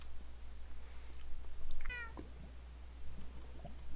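A cat meows in a video game, a short bright call standing out once against a steady low hum and faint background noise.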